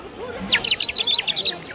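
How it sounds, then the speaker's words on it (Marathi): A shrill, warbling bird-like trill bursts in after a brief quiet moment and keeps fluttering rapidly, close and fairly loud, like a water-filled whistle toy. "हे चिमणी त्यात मध्ये पाणी टाकायचं आणि कसं वाजवायचं"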